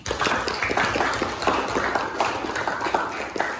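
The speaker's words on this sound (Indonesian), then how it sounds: "Mari kita beri aplaus untuk kita semuanya di sini" Applause from a classroom of students during a teacher's lesson, a dense patter of many hands clapping at close range, steady for a few seconds, with faint voices underneath.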